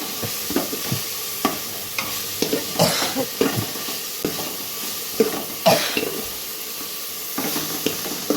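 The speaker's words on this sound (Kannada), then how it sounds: "ಮತ್ತು ಇವಾಗ ಟೊಮೊಟೊ ಹಾಕ್ತಾಯಿದ್ದೀನಿ ಟೊಮೊಟೊ ಈ ತರ ಕೆಂಪಿಗೆ ಸ್ವಲ್ಪ ಚೆನ್ನಾಗಿ ಸ್ವಲ್ಪ" Chopped tomatoes sizzling and frying in a hot pan, with a spatula stirring and scraping in irregular strokes and clinks against the metal, close and steady throughout.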